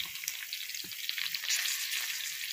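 A pan of carrot, mint, cucumber pieces and tamarind frying gives a soft, steady sizzle with light crackles and an occasional stirring clink, fairly quiet and close.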